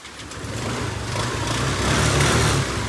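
A repaired motorcycle engine, brought back after an ECU fix, runs steadily nearby, a continuous, fairly loud hum that rises a little toward the end.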